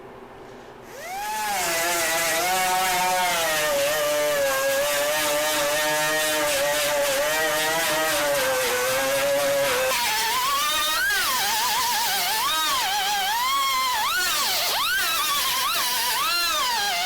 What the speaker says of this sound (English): I'm going to get my grinder, we're going to start grinding all this up